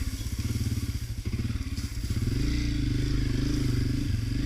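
A Honda CRF250F dirt bike engine thrums loudly and close while being ridden, its rapid pulsing beat dipping briefly then rising to a steadier, higher drone as the rider pulls out, with no talking.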